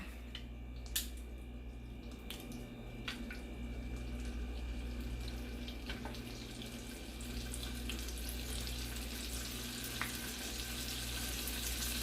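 Scallops searing in a hot pan, a steady hissing sizzle throughout with a few light clicks and taps, close and moderately quiet, no talking.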